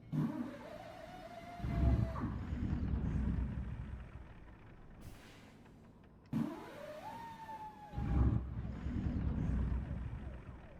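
A Peterbilt truck engine in American Truck Simulator cranks and catches twice, each start giving a rising whine and then a deep rumbling idle, with a quiet gap between the two attempts.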